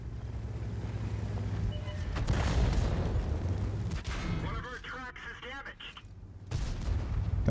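Artillery shell fire striking a tank in World of Tanks, heard as dense booming gunfire and rumbling impacts under a continuous battle din, with a short chirping sweep partway through and a heavy thump near the end.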